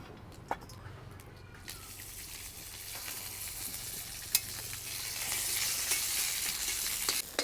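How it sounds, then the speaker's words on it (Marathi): Steady crackling sizzle of chilies roasting in a hot kadai, growing a bit louder over time, with occasional sharp pops and scrapes. "कढई गरम झाली आपण मिरच्या आणि शेंगदाणे भाजून घेऊ"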